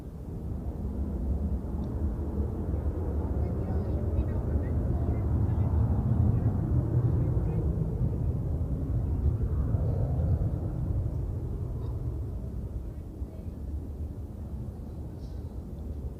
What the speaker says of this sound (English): And now takeoff for El Al to Tel Aviv.